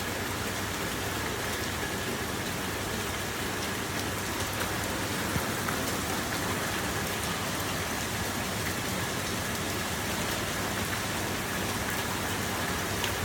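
Steady, dense rain falls continuously and evenly throughout, an unbroken hiss of drops on surfaces with no voices or other sounds.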